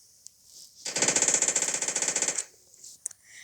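Automatic gunfire in the video game PUBG: a single rapid burst of about twenty evenly spaced shots lasting a second and a half, fairly near and crisp, with brief clicks before and after.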